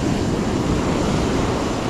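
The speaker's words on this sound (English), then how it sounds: "These waves are coming all the way up to my net holder and my pole holder." Ocean waves wash continuously onto the shore during beach surf fishing, a steady loud roar of surf mixed with wind buffeting the microphone, with no voices.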